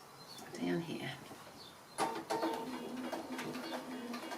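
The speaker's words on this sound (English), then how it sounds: "I'm just going to start sewing" A sewing machine running with its feed teeth down and a free motion foot for quilting, producing a steady mechanical stitching hum with a few brief stops, heard at a moderate level beneath a person talking.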